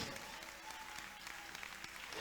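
Audience applause filling a hall, a steady wash of many hands clapping throughout the short moment, heard alone without voices over it.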